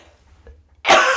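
A single sharp, close cough bursts out after a near-silent pause, its harsh, breathy sound lingering briefly.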